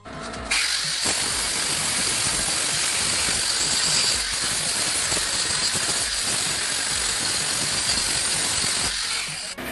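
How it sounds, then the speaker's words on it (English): A grinder works steadily against metal, giving a loud, continuous harsh hiss and whine that runs almost unbroken for about nine seconds, close by and with no talking. "I'm gonna go ahead and start filing this down with a grinder"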